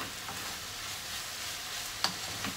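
Eggplant and garlic sizzle and crackle steadily in a hot pan for a black vinegar miso stir-fry, with a sharp clink of a utensil against the pan near the end.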